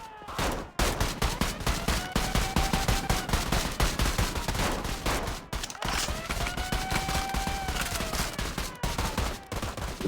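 Rapid bursts of gunfire rattle almost without pause during a roleplay game heist on a warehouse, with sirens wailing in the background behind the shots.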